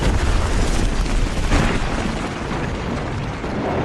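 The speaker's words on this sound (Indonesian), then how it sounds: "Kemudian helikopter pun oleng, dan akhirnya helikopter tersebut jatuh ke tanah." A helicopter crashes to the ground in the action film Skin Trade (2014), producing a loud, dense, continuous roar of explosion and rumbling debris that fills the whole span without any speech.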